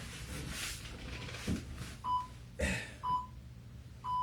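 Workout interval timer giving short, clear electronic beeps, three evenly spaced tones near the end of a gym session, with heavy breathing and room noise underneath.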